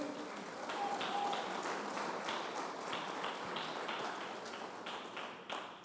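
Church congregation applauding during a Portuguese-language sermon, a steady wash of many hands clapping at moderate distance, fairly faint, with no clear voices over it.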